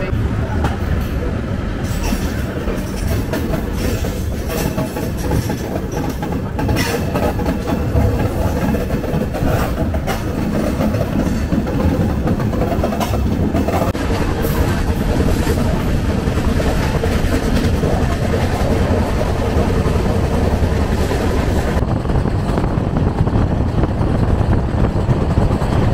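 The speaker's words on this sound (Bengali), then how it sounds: "ট্রেন এখন কিউল জংশনের দিকে এগোচ্ছে।" A moving passenger train traveling out of Patna toward Kiul junction, with a steady loud rumble and continuous wheel clatter throughout, plus faint voices in the background.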